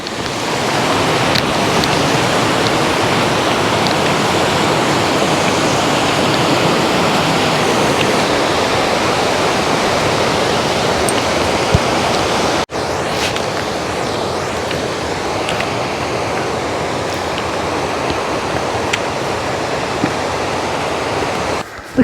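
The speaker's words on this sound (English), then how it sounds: "There's nothing better than walking by a stream." A mountain stream in Glen Lyon rushes steadily and loudly close by, a continuous broadband wash of flowing water with no speech, dipping slightly in level partway through.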